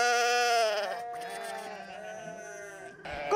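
Sheep and newborn lambs bleat on a winter livestock farm: a long, close, wavering bleat, followed by further fainter calls that overlap and fade.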